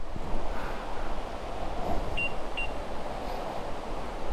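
Sasa no Taki waterfall in Totsukawa village, a continuous, close rushing roar of falling water, with two brief high beeps partway through.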